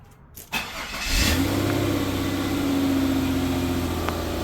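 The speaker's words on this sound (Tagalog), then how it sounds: "in-start ko po yung makina" A car engine cranks briefly and catches, then settles into a steady, loud, even run with no talking, heard during an alternator charging test.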